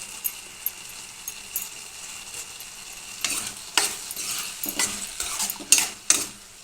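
Garlic added to hot oil for tomato pachadi, a soft sizzle with a spoon scraping and stirring against the pan in irregular bursts that grow busier toward the end.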